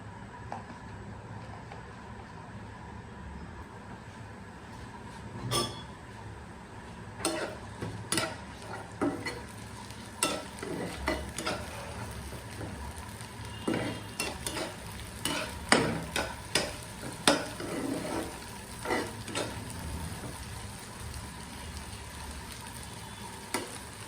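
Bitter gourd frying with chopped onion, garlic and green chili sizzles steadily in a pan, broken by a run of sharp utensil scrapes and clinks as it is stirred, close and with no talking.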